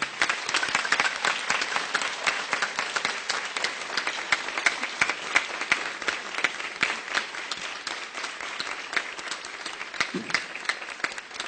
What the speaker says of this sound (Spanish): Démosle por favor un aplauso a estos campeones de oratoria.